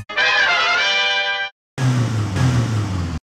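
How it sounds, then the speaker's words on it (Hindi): Car engine in an early top-down GTA game from 1997, two loud bursts of synthetic engine tone separated by a short silence, the second rougher and lower, with no talking. "एक गाड़ी की आवाज आ रही है।"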